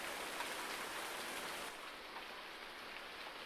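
Rainfall in Farming Simulator 19 running the Seasons mod, a soft continuous patter that drops slightly quieter partway through and carries on alone without any talk.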